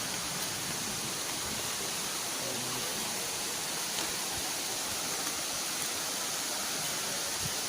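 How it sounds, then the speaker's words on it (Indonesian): A waterfall in Belitung rushes in a steady, broad, even roar, constant and fairly loud throughout with no other sounds standing out. "udah kelihatan di sana ada air terjun"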